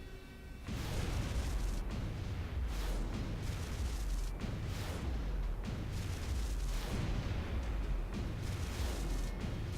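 Aerial interceptor combat in the strategy game XCOM, with a dense, continuous barrage of gunfire and booming blasts that stays loud and steady for nearly the whole stretch, with no voices.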